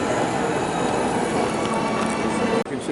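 A model train runs steadily in a flower show display, a continuous close rumble and clatter of wheels on track that cuts off sharply near the end.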